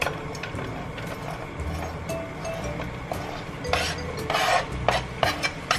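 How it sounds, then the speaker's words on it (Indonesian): Bell pepper and onion are stir-fried in a pan: a utensil scrapes and clinks against the metal in irregular strokes over a low frying background, with faint voices in the room. "Ini kita tumis. Seperti ini, tumis."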